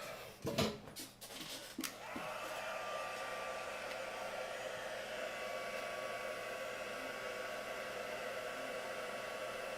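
A heat tool blows steadily over ink on Strathmore Bristol card, switching on after a few brief handling clatters and then holding one even, close whooshing hum to the end.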